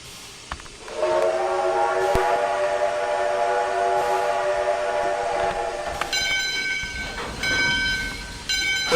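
A Canadian steam locomotive whistle in the Trainz railway simulator blows one long, loud, steady chord of several seconds, then a brighter second whistle tone sounds in shorter blasts over rail and engine noise.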